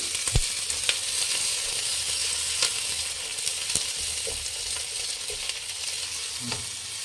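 Onions with curry leaves fry in a pan for hotel-style egg rice, making a soft, even sizzle punctuated by sharp ladle taps and clicks against the pan at irregular intervals.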